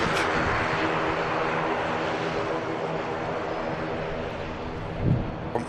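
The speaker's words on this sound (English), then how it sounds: "The other Ryanair from Budapest," A Ryanair airliner from Budapest lands at Manchester Airport, its jet roar steady and broad throughout at moderate distance, with a brief low thump near the end.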